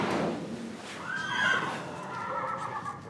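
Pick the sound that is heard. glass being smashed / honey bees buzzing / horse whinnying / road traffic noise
horse whinnying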